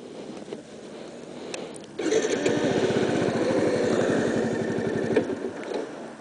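A motorcycle engine idles close by with a steady, fast putter that grows louder midway before settling, ending as the bike is switched off.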